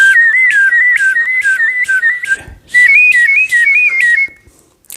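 Palate whistle played as a double warble, a loud close whistled tone rapidly wavering in a steady fluttering pattern, two phrases separated by a short breath-like gap.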